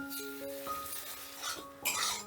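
Tomatoes for a tomato singara filling frying over medium heat while a spoon stirs and scrapes the pan, soft sizzling under a few light metallic clinks and one louder scrape near the end.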